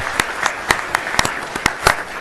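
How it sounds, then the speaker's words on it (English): Scattered clapping at a school board meeting, honoring six-year attendees: a handful of sharp, separate claps spread irregularly over a couple of seconds, fairly close, with no one speaking. "let's give all of our 6-year attendees a round of applause"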